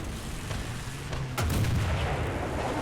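A tank cannon in the War Thunder video game firing a HESH round, one deep, heavy boom over the constant rumble of an engine.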